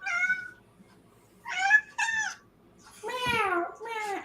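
A cat meowing up close, several distinct drawn-out meows with pauses between, the last ones longer and rising, with no talk over them.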